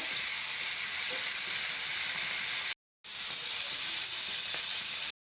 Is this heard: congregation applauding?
no